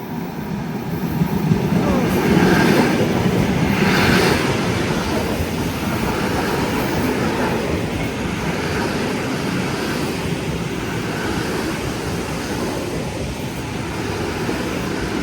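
A train approaching from Iskitim near Novosibirsk rumbles and clatters along the rails at a moderate distance, with faint whistle-like tones rising briefly early on over a steady rolling noise.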